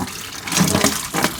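Liquid pours and splashes as oil drains from the engine of a Nissan D21 Hardbody, a short, close gurgling flow that swells and then drops away.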